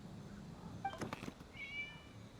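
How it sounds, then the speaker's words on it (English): A cat in a video game gives a short, clear meow, followed a moment later by a softer, higher second mew over a quiet ambient background. "It was just a cat."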